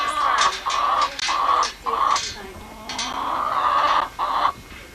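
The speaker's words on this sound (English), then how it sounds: "Our noisy chickens are laying eggs." Egg-laying hens clucking in repeated bursts near a barn, a steady run of short calls with brief pauses between, fairly close and loud with no talking.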